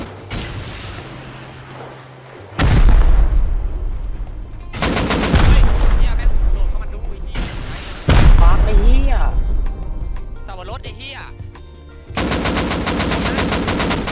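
Gunfire in the video game Rust comes in several loud bursts of rapid automatic shots, some tailing off into echoing reports, with excited talk between and over them.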